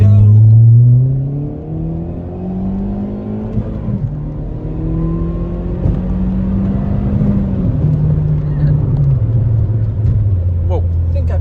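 A car engine revs hard through the cheapest eBay aftermarket exhaust, loud and close, with the pitch climbing and dropping in repeated surges over a sustained drone.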